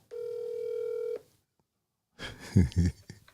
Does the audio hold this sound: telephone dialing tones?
yes